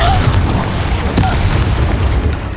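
Confringo blasting spell explosion in Hogwarts Legacy, a loud booming blast with a rumbling tail that fades over a couple of seconds, accompanied by voices.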